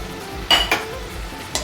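A utensil scrapes and clinks in a pan as spring onion greens, chilli and lentils are stirred together, giving two quick metallic taps close together and another a second later over a soft background hiss.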